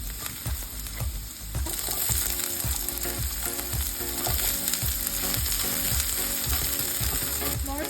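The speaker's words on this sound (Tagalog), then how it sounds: "ngayon naman magigisa na tayo" Garlic sautéing in hot oil for menudo in a home kitchen, a steady loud sizzle with a regular rhythm of stirring scrapes and low knocks throughout, no talking.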